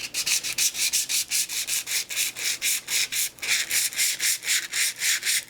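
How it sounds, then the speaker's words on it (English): Sandpaper scuffs the barrel of an 1890 Winchester .22 rifle in quick rhythmic back-and-forth strokes, steady, close and fairly loud, each stroke a sharp rasping hiss, with no voices. "we're going to scuff it up with a little bit of sandpaper"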